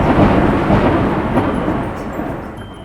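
Loud, deep thunder rumbling continuously, a broad rolling roar that slowly fades toward the end.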